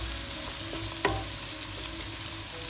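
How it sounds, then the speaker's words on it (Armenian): Chopped onion fries in homemade oil in a pan, a close, steady hiss of sizzling with one sharp clink of a utensil midway. "30 րոպե անց պատրաստվող թավայի մեջ արդեն ավելացնում ենք տնական յուղը և կտրատված սոխը"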